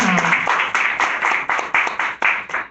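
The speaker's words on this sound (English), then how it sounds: "So you can give them a round of applause" A panel discussion audience gives a round of applause for four panelists, with distinct, fairly close clapping bursts in a loose rhythm rather than a continuous roar, fading slightly between claps.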